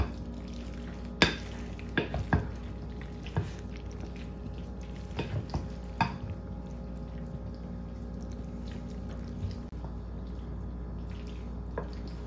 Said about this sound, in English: So just mix it all in so that all the sauce is mixed all around.